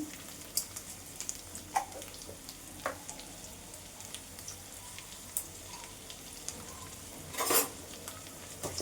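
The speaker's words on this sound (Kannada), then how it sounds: "ಕ್ಲೀನಾಗಿ ಕ್ಲೀನಾಗಿ ಬ್ರೌನ್ ಆಗೋವರೆಗೂ ಹುರ್ಕೋಬೇಕು" Onion, cinnamon and cloves frying in a pan for a home-style egg and chicken sambar, a soft steady sizzle with occasional clinks and stirring scrapes, one louder scraping burst near the end, no voices.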